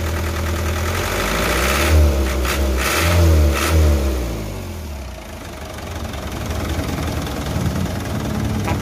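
A 1997 Hino Ragasa 120 PS truck engine revs up twice in deep rising surges, then settles back to a steady, rumbling idle close by.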